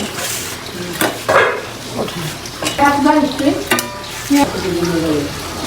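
Winter broad beans are stir-fried in a home kitchen, with loud close sizzling and repeated scraping and clanking of a spatula against the pan. Voices murmur in the background.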